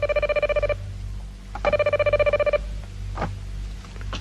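A telephone bell rings indoors in two long trilling bursts separated by a pause, loud and steady, followed by a couple of brief clicks and knocks.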